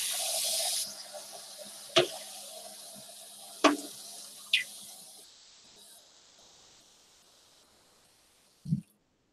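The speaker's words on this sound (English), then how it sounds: "And then I just want to rinse off the cutting board." Tap water running over a cutting board after cracking a coconut: a steady hiss of flowing water for about five seconds with a few sharp knocks, then the flow stops and a single dull thud follows.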